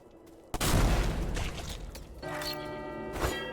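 The spitter weapon in the video game Forgive Me Father fires with a sudden loud blast followed by a rumbling, crackling tail, then a second, buzzier burst of sound that rises and fades near the end.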